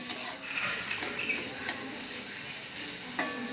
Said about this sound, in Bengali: এবার ওলটা দিয়ে ভালো করে একটু ভেজে নেবো